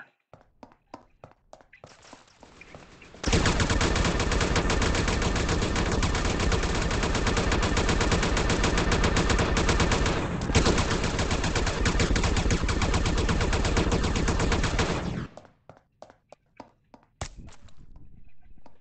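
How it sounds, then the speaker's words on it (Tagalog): Sustained automatic gunfire in the video game Project World, a dense, loud burst lasting about twelve seconds, framed by scattered single shots and taps before and after. "Ang barilan."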